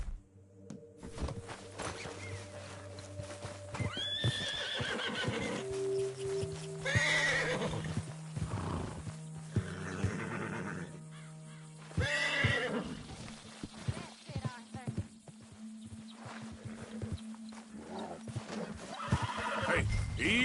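A horse in Red Dead Redemption 2 whinnies several times amid clip-clopping hooves and footsteps, fairly close, with occasional brief talk in between.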